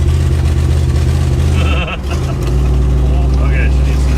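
Deep, steady exhaust rumble from a 1970s Lincoln luxury car with dual exhaust and standard mufflers, in need of tuning, pulling uphill up close. It dips briefly midway, and a short voice-like sound rises over it.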